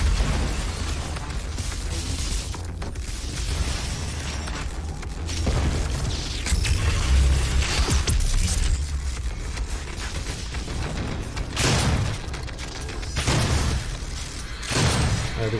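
A pillar is blown apart in Doom (2016), heavy explosions and crumbling booms recurring amid a thick, loud backdrop of combat noise and mechanical clatter, with no talking.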